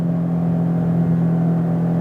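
A car engine holds a steady drone at about 5,000 RPM while cruising, a continuous loud hum with a strong low tone throughout and no voices.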